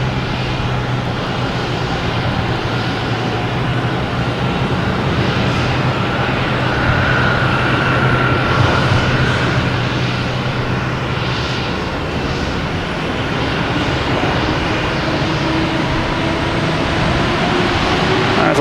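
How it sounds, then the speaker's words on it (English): A United Airlines Boeing 737 MAX 9 takes off at Boston Logan Airport, its engines giving a loud, sustained roar that stays strong and steady throughout. "we got United Airlines taking off at 737 MAX 9, heading to LAX"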